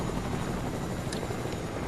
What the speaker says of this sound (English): Don't bring the helicopter, don't bring the helicopter